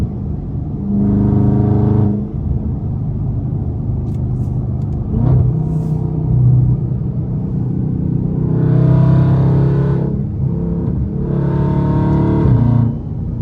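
A Dodge Challenger Scat Pack engine drones low and steady at highway speed, swelling into louder revving bursts several times, with no talking over the interior rumble.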